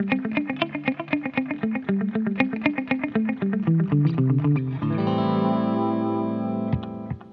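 An unmuted electric guitar plays a rapid picked run through a Harley Benton digital delay pedal, then holds a long ringing note with repeating echoes blending in, loud and close, with no speech.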